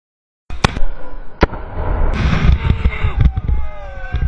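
A GLI-F4 grenade goes off at a street protest with a sharp blast followed by crackling pops and a rumbling roar, with several loud bangs against a noisy crowd backdrop.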